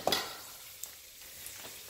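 A shrimp egg foo young patty fries in oil at about 345–350 degrees with a soft, steady sizzle that opens with a brief spattering burst, heard close and without voices.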